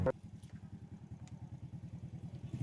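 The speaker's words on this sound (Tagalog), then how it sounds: "bago na naman motor mo ah." A new motorcycle engine idles with a steady, low, even chugging pulse that runs unbroken throughout, fairly close and moderately loud.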